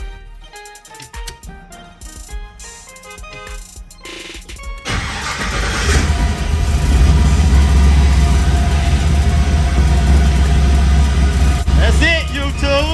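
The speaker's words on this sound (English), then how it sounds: "So let's see if it'll crank" Car engine with an LS swap cranks after the battery has been recharged, then catches and settles into a loud, steady idle, close by. Music and faint talk come before it.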